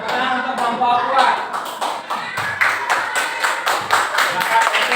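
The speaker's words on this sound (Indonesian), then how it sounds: "tepuk tangan untuk kelompok 2" A classroom audience claps for a student group, with many close, uneven hand claps and thumps going on for several seconds, mixed with students' voices.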